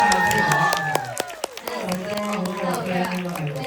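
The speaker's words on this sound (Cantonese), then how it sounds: "有啲掌聲" An audience at a music video premiere applauds and cheers as artists are called out, with scattered claps and crowd noise under voices and background music.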